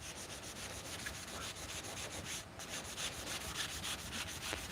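Wood being sanded by hand with fine-grit sandpaper after earlier 100 and 200 grit passes, a steady close rasping rub that continues without a break and without talk.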